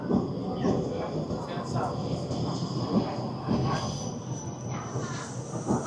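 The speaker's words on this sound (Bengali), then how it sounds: "চলে এসছে আমাদের ট্রাম।" A tram pulling into a station in Guangzhou, China rumbles and clatters on its rails, with squealing wheels that rise and fall as it rolls in, fairly close and loud, and some voices nearby.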